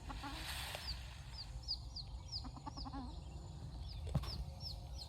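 Faint clucking and short chirpy calls from chickens, with a rooster-like call, over a low rumbling outdoor background.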